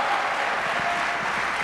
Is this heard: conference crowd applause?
yes